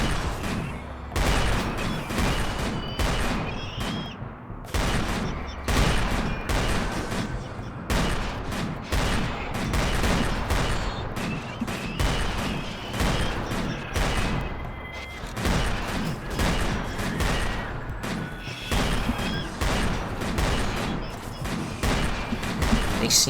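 Dense, continuous video game battle gunfire fills the whole stretch, rapid overlapping shots and bursts with booming impacts keeping a steady loud barrage.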